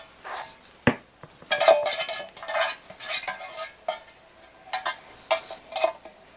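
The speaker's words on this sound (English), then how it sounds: "we're going to grease our loaf pan" A loaf pan is greased for bread, with irregular scraping, smearing and light metallic clinks of a utensil against the pan, close and moderately loud, with no talk.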